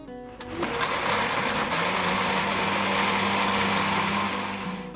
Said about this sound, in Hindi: अब हम इसमें ऐड करेंगे हस्बे ज़रूरत बर्फ और दोबारा ग्राइंड कर लेंगे।